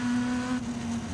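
A Caterham 620R race car accelerates hard on a track lap, its engine a loud, steady high drone close by that dips slightly partway through, with no talk.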